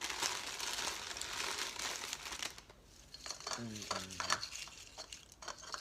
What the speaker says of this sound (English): we're going to fill them up with some crinkle